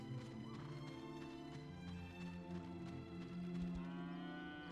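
A cow lows in the Dragon Quest 8 game world, one steady drawn-out moo held for several seconds over a layered backdrop of game music, fairly close and clear with no talking.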